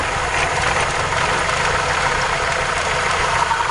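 Car engine idling steadily while the ignition timing is adjusted at the distributor, a continuous low rumble with no voices.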